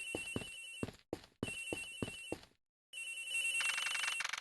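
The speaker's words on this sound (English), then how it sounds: "Sounds like the phone is up in the flight attendant's room." Telephone ringing in the video game Ace Attorney Investigations, aboard a flight in the flight attendant's room: three bursts of bright electronic ring tones separated by brief pauses, then a fourth denser ring, clear and alone.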